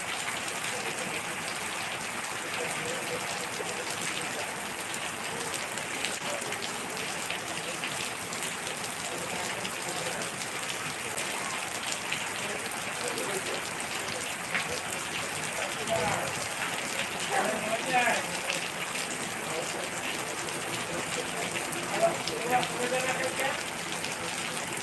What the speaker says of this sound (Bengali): প্রচুর পরিমাণে বৃষ্টি হচ্ছে বন্ধুরা